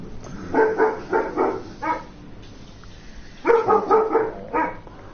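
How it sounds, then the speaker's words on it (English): A dog barks in two bursts of three to four sharp woofs each, close and loud, with a quiet pause between them and no talking. "That was my dog barking at my wife."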